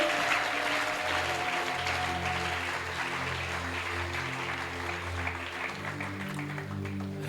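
A church congregation at a Sunday service claps hands for Jesus, a dense continuous wash of applause with sustained organ or keyboard chords running underneath.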